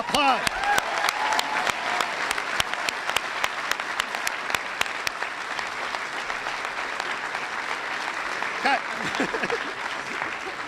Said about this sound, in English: So let's give them a rousing applause.